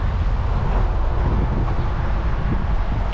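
Strong sea wind roars steadily into the microphone by the shore, a constant low rumbling buffet with no breaks, loud and close throughout.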